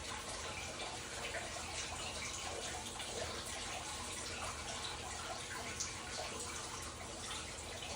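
Water runs steadily from a tap while food is rinsed at a kitchen sink, a soft, constant hiss and trickle heard from a little distance, with no talking.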